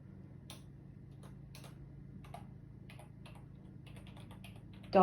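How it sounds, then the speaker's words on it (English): Keys on a computer keyboard click softly in short, irregular bursts, then a brief louder sound comes at the very end. "all you have to do is you're going to type in Citation Machine"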